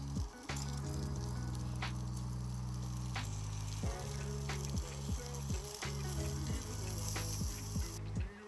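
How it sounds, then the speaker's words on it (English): Leftover potatoes reheating in a pan on a propane camping stove at a state park campsite, a steady sizzle and fry under a low constant burner hiss, with repeated clicks and knocks over it. "Heating up yesterday's potatoes. Using the propane stove for the first time."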